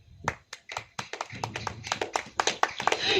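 Hands clapping in a church congregation during a sermon, a scattered group starting sparse and building into quicker, denser claps, close and clear with no speech over it.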